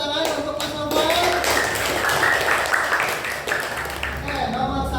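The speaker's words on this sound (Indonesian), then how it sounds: "tepuk tangan untuk Mas Novel." A classroom audience applauds loudly and steadily for about five seconds, the dense clapping close by, with people talking over it.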